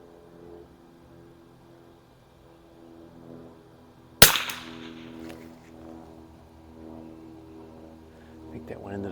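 A single sharp rifle shot from a 1974 Remington 540X firing Geco ammunition at a 50-yard range, close by and echoing briefly over a quiet outdoor background, with low talk around it.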